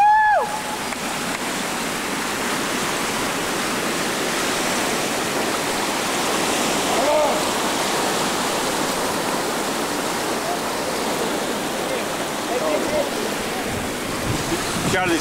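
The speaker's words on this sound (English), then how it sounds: "That must be like an underground stream or something." A Grand Canyon river rushes steadily past a cave entrance, a loud continuous roar of churning water that stays even throughout, with no voices heard.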